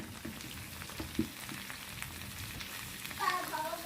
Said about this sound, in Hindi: यहाँ मेरी भिंडी फ्राई हो रही है